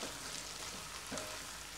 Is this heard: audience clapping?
no